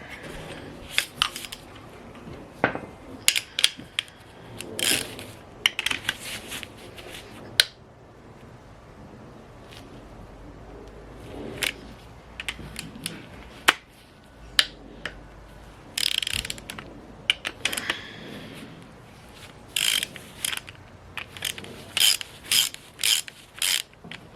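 Ratchet working loose the engine bolts on a Dodge 5.2 Magnum V8 during a teardown, giving bursts of quick, close metallic clicking separated by pauses, with no talking.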